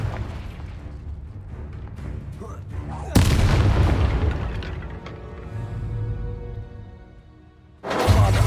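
Confringo blasting spells set off loud, booming explosions in Hogwarts Legacy, with one big blast breaking out a few seconds in, rumbling as it fades, and another erupting near the end over a low background.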